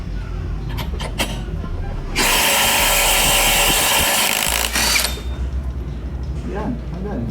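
A Makita cordless impact wrench with a size 22 socket loosening a pulley nut on a CVT bursts into a loud, steady hammering whir for about three seconds, set between quieter handling noise and someone talking.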